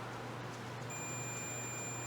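Multimeter continuity beep while testing an electric motor's coil winding: a steady high tone starts about a second in and holds to the end over a low electrical hum, with no talking.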